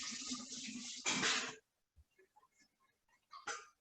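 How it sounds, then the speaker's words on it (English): Hands are rinsed under a running tap in a home kitchen. A loud rush of water runs for about a second and a half, then stops, followed by faint handling noises and a short final splash. "I need to rinse my hands off."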